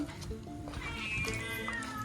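A cat meows a few times, thin and wavering, nearby amid background noise and muffled talk.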